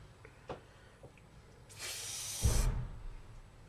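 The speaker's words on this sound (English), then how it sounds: "Did I spray everything, is the question." An aerosol spray can releases one short hissing burst lasting about a second, preceded by a few faint handling clicks and followed by a brief low rumble.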